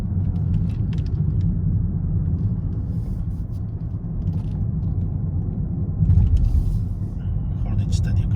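Toyota Corolla Hybrid pulling uphill under acceleration, a steady close low engine and road rumble that swells briefly near the end, with a voice talking over it.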